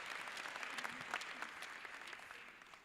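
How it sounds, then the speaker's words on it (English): A university lecture audience applauds its chairperson with sustained, even clapping from a crowd. It sounds somewhat distant and soft and tapers off slightly at the end. "A round of applause for our chairperson."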